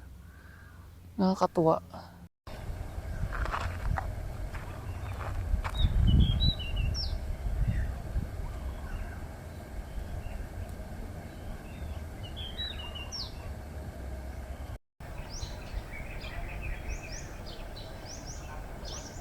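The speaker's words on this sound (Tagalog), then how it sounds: "Daming ibon." Many birds calling outdoors near a Batangas lakeshore, scattered high chirps and caws at varying distances over a steady rumbling background, with a person speaking briefly near the start.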